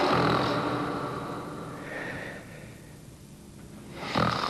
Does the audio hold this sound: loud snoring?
yes